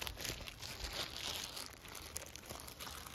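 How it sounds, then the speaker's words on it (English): A plastic bag is grabbed and crinkled up close in a house, a steady rustling crackle with sharp crunchy bursts lasting a few seconds. "I see a thing, a plastic bag. Let me grab it."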